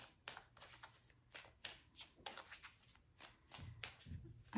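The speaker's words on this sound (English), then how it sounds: "I'm going to draw an oracle card here." Oracle cards being shuffled by hand in a quiet room, a close run of soft papery riffles and flutters coming in quick irregular bursts over several seconds.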